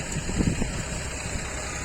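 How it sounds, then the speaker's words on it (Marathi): A tractor puddles a muddy paddy field before rice transplanting, giving a steady, moderately loud engine rumble with low churning noise and no talk. "चिखल करणं चालू आहे ट्रॅक्टरनं"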